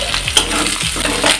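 Potato and beaten egg stirred in a hot frying pan for home-style aloo chowmein, with repeated scraping strokes of the spatula over a steady close sizzle and an occasional light clink of metal.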